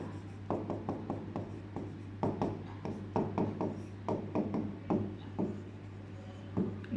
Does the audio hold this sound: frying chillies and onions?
no